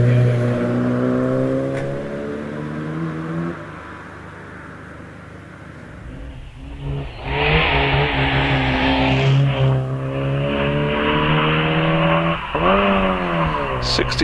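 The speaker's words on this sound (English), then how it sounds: "Christopher Bentley Jones as Clive Godfrey gets away in the Mini Cooper S" A Mini Cooper S rally car launches from the start line of the Prescott hillclimb, its engine revving loudly and climbing through several gear changes with a brief tyre squeal. An announcer talks over the engine.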